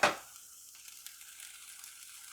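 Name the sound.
onions, bell pepper and green onions sautéing in a pan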